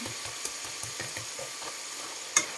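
Freshly cut potatoes sizzle steadily in oil in a pan, with soft rhythmic scraping and stirring thumps and a sharp clink near the end.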